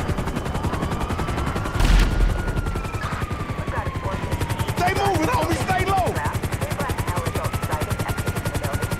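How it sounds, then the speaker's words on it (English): A helicopter hovers overhead in Grand Theft Auto V during a gunfight, its rotor giving a steady rapid chop throughout, with a loud burst near the start and scattered gunfire over it. "We ain't going nowhere with that chopper on us!"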